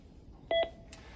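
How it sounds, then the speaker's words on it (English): Two short DTMF keypad tones from a phone dialing out during a demonstrated call in a training session, a brief pair of beeps followed by a fainter tone, with no talk over them. "I'll demonstrate a call here so you can see what it's like"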